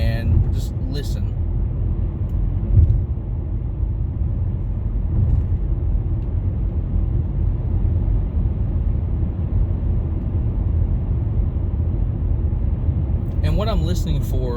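Cabin noise inside a 2017 Nissan Altima 2.5 SV cruising at 55 mph: a steady low road and tire rumble with faint wind hiss, continuous and even, with nobody talking.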